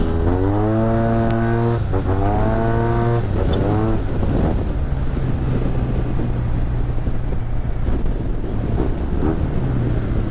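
Yamaha TMAX 560 scooter engine pulls hard under acceleration, its rising harmonic whine climbing in pitch before settling into a steady drone mixed with heavy wind rush, loud and close throughout.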